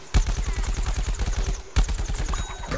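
Rapid automatic gunfire in Plants vs. Zombies: Garden Warfare, two loud bursts of evenly spaced shots separated by a brief pause.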